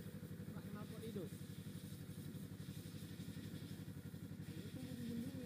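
Honda CBR motorcycle engine running with its exhaust open, a steady, close, low-pitched throbbing rumble that continues throughout with slight rises, while people talk over it.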